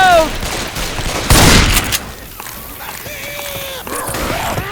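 Gunfire in Left 4 Dead 2 during a Hard Rain map match, loud bursts of shots and a heavy blast mixed with game effects and character voices.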